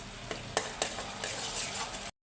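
Masala spices frying in oil in a pan for potato curry, a close steady sizzle broken by a few sharp stirring scrapes before it cuts off abruptly.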